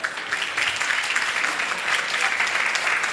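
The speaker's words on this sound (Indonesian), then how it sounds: "Tepuk tangan dulu kita" Sustained audience applause fills a training seminar hall, a dense, even wash of many hands clapping steadily at moderate volume throughout, with no voices standing out.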